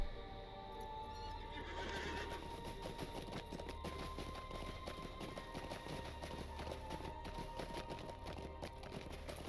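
A horse neighs on dismount in the LOTRO video game, giving a loud whinny followed by a rapid, steady clip-clop of hooves that carries on to the end.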